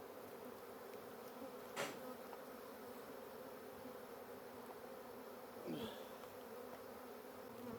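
Honeybee swarm buzzing at a hive entrance as the bees are guided toward their queen, a steady faint insect hum throughout with a couple of brief louder passes of nearby bees.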